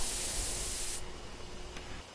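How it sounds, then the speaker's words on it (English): A sprayer releasing a drug in the video game Death Mark, a single loud hissing spray burst of about one second that fades into a quieter hiss. "I take careful aim and spray the drug."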